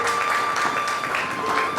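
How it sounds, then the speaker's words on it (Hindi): Audience applause welcoming a guest at a satsang religious gathering, a steady wash of clapping from many hands lasting under two seconds, fairly close with a faint tonal hum beneath. "आप सब भी उनका तालियों से स्वागत करें।"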